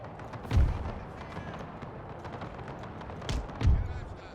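Cannon artillery fire in a video game battle set in the Second Schleswig War of 1864: two loud, deep booms about three seconds apart, each with a short rumbling tail, over a steady background of distant battle noise.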